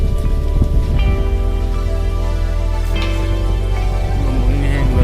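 Storm rain drums on a zinc sheet roof in Laos early in the morning, a loud, continuous patter with a ringing metallic resonance throughout and no talking.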